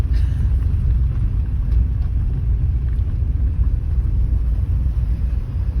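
Steady low car engine rumble from inside a car climbing a gentle slope in first gear on the way to a forest campsite, continuous and fairly loud with no talk.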